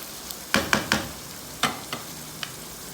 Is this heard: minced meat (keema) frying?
yes